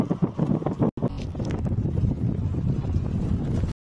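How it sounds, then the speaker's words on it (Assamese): Cold wind gusting at Krangsuri waterfall, buffeting the microphone in rough low rumbles with a brief dropout, then a steady blustery roar until it cuts off. "আৰু ঠাণ্ডা বতাহ দেই কিন্তু খুব"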